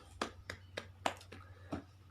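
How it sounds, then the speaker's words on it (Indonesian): Students in a classroom give a short round of applause for a classmate, about six separate, fairly sharp claps at an uneven rhythm over a low steady hum, faint in level. "Beri tepuk tangan untuk Mas Ari"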